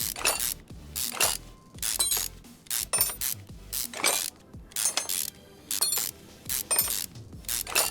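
Ratchet work on a Nissan Fairlady timing cover in Car Mechanic Simulator 2021, with a burst of rapid mechanical clicking and metallic clinks repeating about every half second as screw after screw comes out, loud and close, with no talk.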